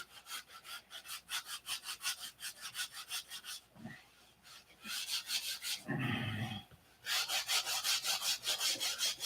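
A wooden P-47 model flap is sanded by hand with 180-grit sandpaper, giving rapid rhythmic back-and-forth rasping strokes, close and clear, in bursts separated by brief pauses and a few softer scrapes.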